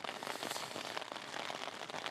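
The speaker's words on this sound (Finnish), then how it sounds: "Sataa edelleen siis vettä ja aika laajolla." Heavy rain pours steadily outdoors during a hike along a Swedish trail, a dense, constant hiss and patter that stays close and fairly loud with no voices.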